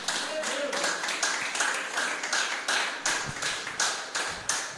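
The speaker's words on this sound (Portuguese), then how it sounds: "As palmas para Jesus." A church congregation claps hands in a steady rhythm during a Portuguese and Spanish sermon, with roughly two sharp claps per second over several seconds and voices faintly underneath.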